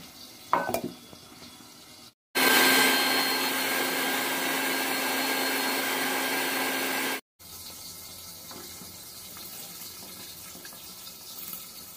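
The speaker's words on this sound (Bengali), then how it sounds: "সবকিছু মিক্সির জারের মধ্যে দিয়ে দেব তুলে। অল্প জল দিয়ে দেব, দিয়ে মশলাটাকে পেস্ট করে নেব।" A kitchen mixer grinder blends spices with a little water into a paste for a Bengali tender drumstick-stem and potato dish. A loud, steady whir starts abruptly, runs about five seconds and cuts off sharply, with quieter kitchen noise on either side.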